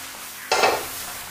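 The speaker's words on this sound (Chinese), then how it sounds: "锅里面加点食用盐，用来煎茄子" Eggplant hits a hot salted wok, bursting into a sudden loud sizzle that quickly settles to a softer steady frying hiss, with no voices.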